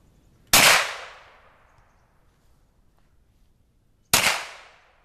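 Two sharp, loud gunshots from a Hi-Point 9mm carbine crack out a few seconds apart outdoors, each with a short decaying echo and quiet in between.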